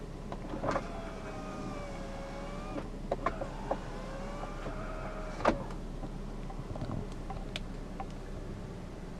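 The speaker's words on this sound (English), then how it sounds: "This button is for your rear sunshade." Rear sunshade motor in a 2005 BMW 523i, a thin whining electric drone that runs for a couple of seconds, pauses with clicks, then runs again, heard quietly inside the cabin with a few button clicks.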